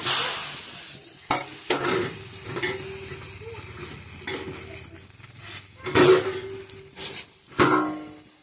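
Green chili, onion and garlic sizzle in a pan, punctuated by sharp scrapes and clanks from repeated stirring, all close and loud.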